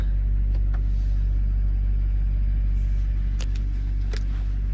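A warmed-up diesel truck idles on a cool day, a heavy, steady low rumble close by with a few light clicks over it.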